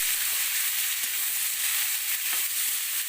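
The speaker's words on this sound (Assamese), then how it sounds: "পচলাখিনি ধুনীয়াকৈ সিজি লওক, তেল মচমচীয়া হৈ লওক।" Banana stem pieces frying in hot oil give a steady, close hiss of sizzling and crackle with soft bubbling throughout, loud and even, with no voices.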